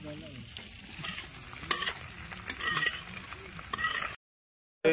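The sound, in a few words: frying paneer in a pan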